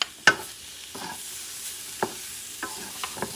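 Garlic sizzling quietly in a pan for paella, broken by a few sharp scrapes and clinks of stirring spread across a few seconds.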